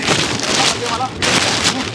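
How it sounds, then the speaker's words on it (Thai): Rain patters steadily in a close, bright hiss during a fishing outing in Rayong, Thailand, with voices talking briefly underneath. "ฝนตกแล้ว"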